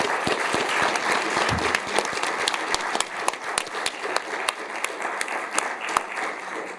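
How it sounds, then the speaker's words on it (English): An audience at a Constitution Day panel discussion applauds steadily, a dense patter of clapping hands that stays loud throughout without any voices over it. "want to thank you all for coming, especially a big round of applause for Brian and the panelists."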